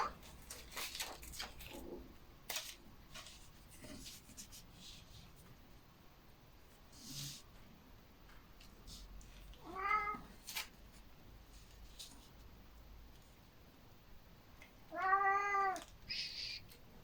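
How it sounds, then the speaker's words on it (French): A house cat meows twice, with rising and falling cries spaced apart, close and fairly clear against faint scratching and rustling of paper-crafting work in a quiet room. "J'ai mon chat qui me miaulait dans les oreilles"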